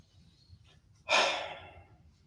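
One long breath out during a yoga session, near and soft, a short breathy exhale that fades slowly after a quiet pause.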